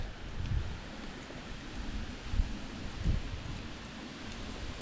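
Soft, steady wind rustles outdoors on a boat while float fishing, with a few gentle low gusts buffeting the microphone, fairly quiet and without any voices.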